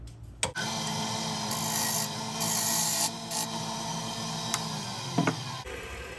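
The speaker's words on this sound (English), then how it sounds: "I just want to take my parting tool and just relieve that edge" A parting tool cuts into the inside edge of a gray swirl ebonite fountain pen body spinning on a lathe, giving a steady, close scraping rasp with a low motor hum beneath that runs several seconds before stopping abruptly.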